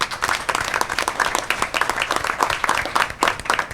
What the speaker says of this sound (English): I'd like to call up our graduates here for a nice round of applause